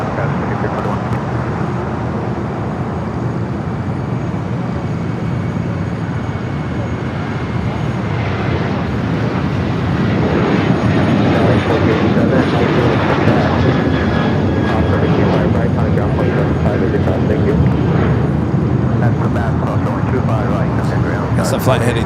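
An airplane at Los Angeles International Airport gives off a broad, steady engine roar that swells louder midway and holds, with voices talking faintly beneath the noise.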